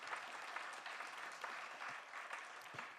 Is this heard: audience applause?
yes